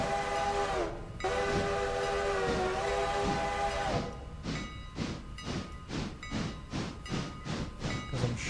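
A train in the video game Railroader, with a sustained horn-like whistle for the first few seconds, then a steady rhythmic series of wheel clunks and rail clacks as the train rolls slowly backward.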